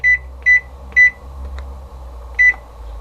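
An oven's electronic control panel beeps four times as the temperature is set to 400, short clear tones spaced about half a second apart with a longer gap before the last, over a low background hum.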